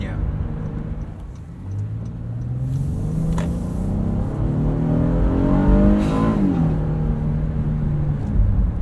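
A 2022 Honda Passport TrailSport engine revs up steadily with a rising tone that shifts sharply in character as it climbs into VTEC, while people talk over it.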